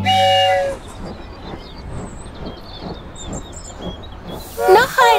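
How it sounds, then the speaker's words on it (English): A choo-choo train sound effect from a children's song: a whistle toot opens, followed by rhythmic chugging and steam hissing, then a second whistle blast near the end, loud and close with no singing. "choo-choo train"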